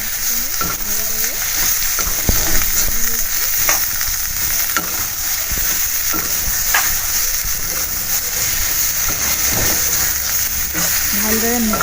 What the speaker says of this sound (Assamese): পিঁয়াজখিনি আৰু বিলাহীখিনি ভালদৰে মিক্স কৰি ল'ব। বাটাৰখিনিৰ লগত ভালদৰে সানি ল'ব।